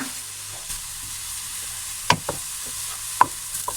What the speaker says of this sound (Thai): ผัดจนผัก เริ่มหอมนะคะ เริ่มแห้งแล้ว